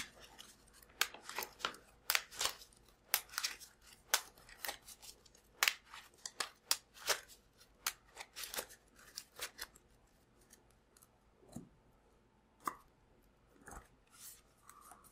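Magic: The Gathering cards are shuffled by hand in a series of sharp, crisp riffles and snaps spaced irregularly, close and fairly quiet, with no talk.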